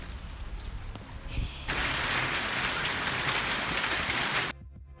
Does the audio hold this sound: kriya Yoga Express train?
no